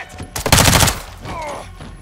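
A burst of gunfire in Call of Duty Modern Warfare II, a dense, loud volley of overlapping shots lasting about half a second, followed by a quieter tail of echo and movement.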